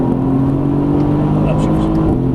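A Mercedes-AMG GT S powers hard out of a corner on the Exotics Racing track in Las Vegas. A loud, steady engine drone with strong low harmonics fills the cabin throughout.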